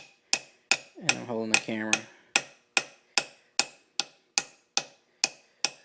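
Steady hammer blows tap a part back into place on a Landa LT4035, sharp metallic strikes repeating about twice per second with a brief spoken remark partway through.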